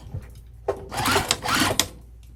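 A sewing machine back stitching a seam on a crossbody bag: short bursts of rapid mechanical whirring and clatter, close and fairly loud, starting and stopping within a couple of seconds.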